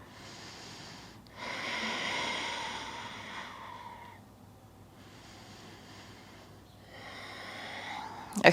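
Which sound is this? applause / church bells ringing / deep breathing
deep breathing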